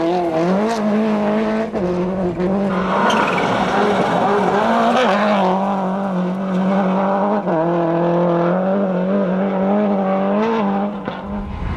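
A Car Extreme Subaru WRC Impreza rally car at the Summit 2000 Rally roars loudly along the stage, engine revving and shifting continuously, with tyre noise and a commentator talking over it throughout.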